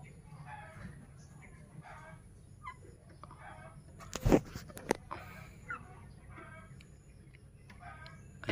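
Free-range village chickens, a mixed flock of native kampung and Bangkok fowl, cluck softly near a farm coop, with a couple of louder sharp sounds breaking through midway over steady low background noise.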